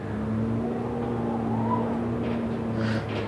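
A Toyota race car at a quarter-mile drag strip, a steady loud engine drone holding near and rising slightly in pitch, with no talk over it.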